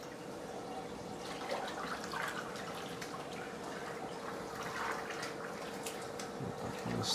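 Liquid poured into a reef aquarium near the wave maker, a steady trickling, splashing wash that runs continuously at moderate level beneath constant water churn.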